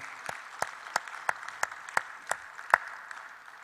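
Applause for a church choir and orchestra at a Sunday worship service: about nine steady, evenly spaced claps, fairly faint and distant, with no talking over them.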